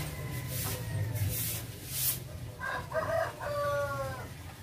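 A hen clucks and calls a few times at moderate distance, its short harmonic cries standing out over a low, steady background hum.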